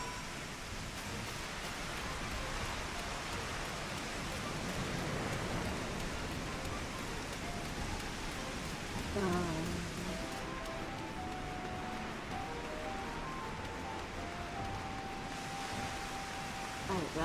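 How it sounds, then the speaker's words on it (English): Steady rain falls in Final Fantasy XIV, a dense, soft hiss of drops spattering on surfaces that carries on throughout at low level, with a brief fainter movement sound near the middle. "I'd rather wait for it to stop raining."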